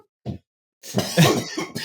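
A short, single cough from a person, followed after a brief pause by a rougher burst of coughing and throat noise, close and fairly loud.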